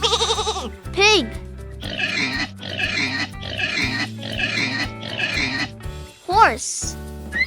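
A pig oinks and grunts in a quick series of rough snorting bursts, fairly loud and close, with brief higher sliding sounds at the start and end.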